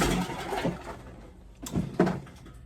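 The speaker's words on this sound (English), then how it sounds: "that noise is me knocking over my trash can." A trash can gets knocked over indoors, producing a few sharp clattering thuds and bangs in quick succession, fairly close and loud.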